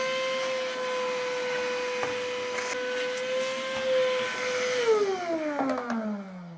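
A vacuum cleaner drying a Bergamasco dog's coat after a bath, a loud steady whine held close that drops in pitch near the end as airflow changes, with no talking.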